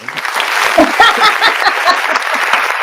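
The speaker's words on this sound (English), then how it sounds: "All right, we're gonna clap again." A small audience claps in a close, dense burst of hand claps for about three seconds, loud and continuous, with a voice briefly mixed in.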